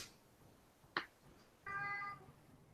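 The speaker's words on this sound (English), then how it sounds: "Those periodic meows are pretty good." A house cat meowing faintly in the background of a room, one brief meow preceded by a sharp click, quiet and distant.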